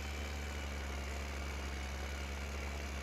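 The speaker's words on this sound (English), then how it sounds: "you can actually hear the engine of the tractor winding up a little bit more" A tractor engine in the Farming Simulator 15 video game drones steadily, a constant, even, loud mechanical hum with a low rumble and no variation or speech.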